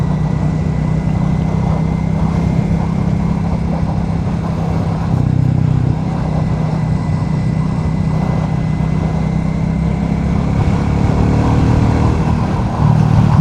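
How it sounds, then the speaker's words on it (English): A Royal Enfield Bullet 350 single-cylinder motorcycle on a test ride gives a steady, loud engine drone with wind rush, holding an even pace throughout. "There is something very special about that little engine."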